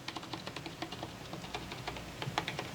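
Typing on a Furycube IP98 membrane keyboard gives a steady run of soft, quick key presses with a few louder strokes, close up and with no one talking.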